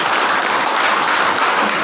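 Applause breaks out at a Home Guards annual training camp ceremony, a loud, dense, even wash of many hands clapping without a break.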